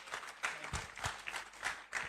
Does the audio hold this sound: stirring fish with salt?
no